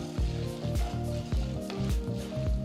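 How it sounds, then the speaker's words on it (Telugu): Chana dal and urad dal frying in a tablespoon of oil in a pan, a faint sizzle broken by several quick stirring scrapes and clatters in an irregular rhythm, no voices. "ఇందులో ఒక టేబుల్ స్పూన్ అంత పచ్చిశనగపప్పు ఒక టేబుల్ స్పూన్ అంత మినపప్పు వేసి వేయించాలి"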